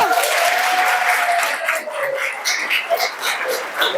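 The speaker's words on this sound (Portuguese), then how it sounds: "Palmas pra segunda?" Applause rises for the second option in a group vote at a motivational talk, a lively clatter of hands with scattered voices and yelps over it, easing off partway through.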